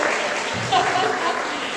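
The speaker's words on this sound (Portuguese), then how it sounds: "Olha, vamos aplaudir, irmãos." Applause from a church congregation, a steady wash of many hands clapping that fills the space at moderate loudness and carries on alone with no talk over it.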